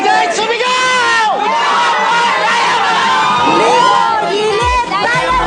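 A large crowd at an anniversary event in the Philippines cheers and shouts continuously, loud and dense, with overlapping voices, whoops and rising yells filling the whole stretch.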